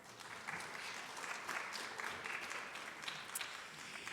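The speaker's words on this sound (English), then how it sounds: "please give them another round of applause" Audience applause at a college scholarship pageant, a steady wash of many hands clapping from a distance, fairly faint and continuous with no voices.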